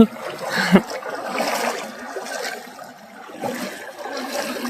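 Water splashing and churning as people wade across a river in a steep valley, a sharp splash near the start followed by continuous sloshing and trickling at moderate loudness.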